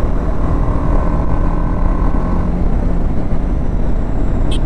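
Motorcycle engine ridden in urban mode on an open road, a loud continuous engine drone mixed with heavy wind rush, steady throughout with no speech.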